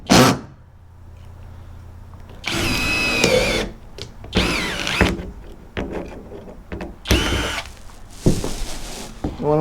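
A power drill drives screws into curved wood sheathing on a vintage-style camper, several whirring bursts of a few seconds each with quieter handling sounds between them, close by.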